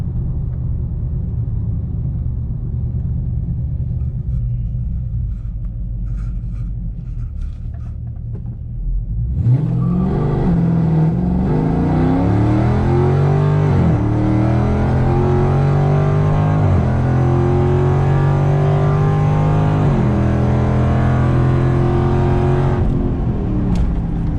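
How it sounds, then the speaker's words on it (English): A car on Nitto NT555 G2 tires launches for a quarter-mile run: quiet idle, then a loud surge of engine revving through several rising gear pulls, each shift clearly marked, ending abruptly. "we'll do our first quarter-mile hit"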